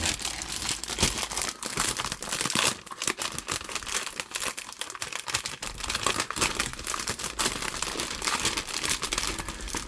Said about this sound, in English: Opening the magazine